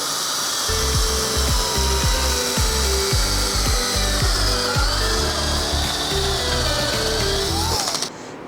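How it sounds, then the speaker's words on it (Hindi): A power drill bores holes into a WPC door frame, running loud and continuous for about eight seconds before cutting off abruptly. "फ्रेम के अंदर होल करेंगे, 3 होल करेंगे"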